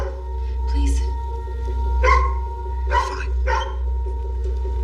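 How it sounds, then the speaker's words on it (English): A dog barks in a few separate, muffled woofs at moderate distance, spaced about a second apart over a steady low hum, with a person speaking briefly. "if he keeps barking, well, the neighbors are gonna call the cops"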